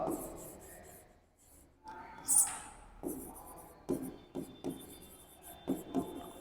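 Chalk or a marker scratches across a board during a physics lecture on Newton's laws and tension force, a series of short, quiet strokes and taps in irregular bursts, with a teacher's voice faintly present.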